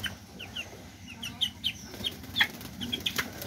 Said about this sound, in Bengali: আমাদের আরেকটা মুরগি হচ্ছে সিলভার ফ্রিজেল।